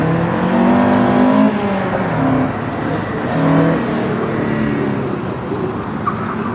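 A classic 1970s-era Nissan Silvia CSP311 revs its engine at a gymkhana event, a loud sustained rasp whose pitch rises and falls through several throttle blips, heard close and steady throughout.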